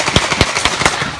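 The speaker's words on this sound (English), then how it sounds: "People panic, running for cover in the smoke-filled streets as the sound of gunshots ring out." A rapid string of sharp gunshots rings out during a riot in Milwaukee streets, about half a dozen loud cracking pops in quick irregular succession.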